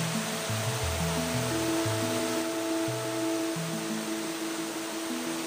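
Kandungos Falls waterfall, a constant hissing rush of falling water filling the scene, with a stepping melody of music playing over it and no talk.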